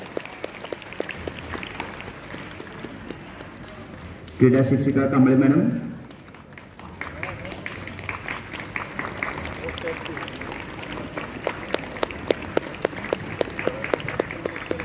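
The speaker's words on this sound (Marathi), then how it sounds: "विद्यार्थ्यांनी टाळ्या वाजवून त्यांचं अभिनंदन करायचंय" Students clap at a school sports week opening ceremony: a short, loud burst of applause lasting a second or two, set between stretches of an announcer's speech over a microphone.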